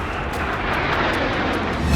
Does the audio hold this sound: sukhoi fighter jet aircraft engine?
yes